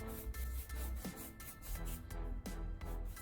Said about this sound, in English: Now for the final sanding stage. Apply the mixture onto the headlight again.